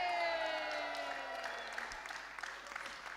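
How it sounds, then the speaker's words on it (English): Applause from the audience at a BAFTA watch party rises loud and then fades to scattered claps over about three seconds, over a faint low hum. "can you please give a round of applause for my team?"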